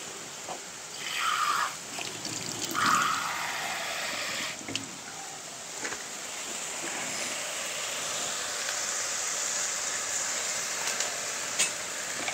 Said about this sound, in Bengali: আবার একটু পানি দিলাম।